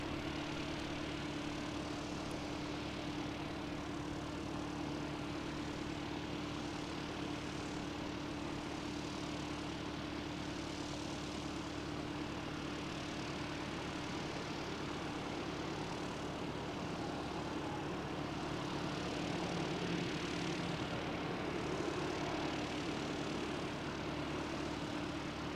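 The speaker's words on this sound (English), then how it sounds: "We've got another ATR inbound from Napier, NZ5775." An ATR turboprop airliner inbound from Napier at Christchurch Airport drones steadily at a distance, a continuous engine hum and propeller whine that swells slightly toward the end.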